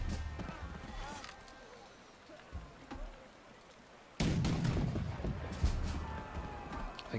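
Musket volleys and cannon fire in the Napoleonic-era strategy game March to Glory: a distant rumbling stretch with scattered shots, then a sudden loud burst of gunfire and booming blasts that continues to the end, with a voice talking over it.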